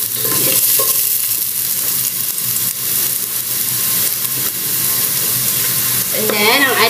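Garlic fries in a pan and is stirred, giving a close, loud, continuous sizzle with scraping stir sounds. A faint whistling tone rises near the end.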